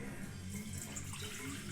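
Lukewarm tap water running into a container for pizza dough, a steady full hiss of flowing water that carries on without a break and stays moderately close.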